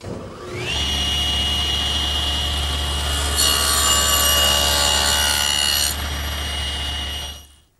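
A saw cuts picture frame molding held in a cutting jig, giving a steady, loud, close whine with a high ringing tone that runs several seconds before winding down.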